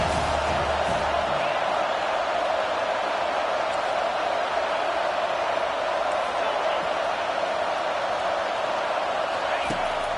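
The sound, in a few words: stadium crowd cheering at college football game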